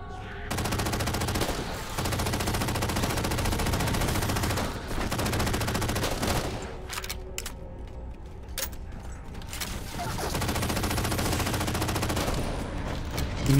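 Heavy automatic gunfire in the video game Halo 4, loud sustained bursts of rapid shots with brief gaps and a few sharp single cracks near the end.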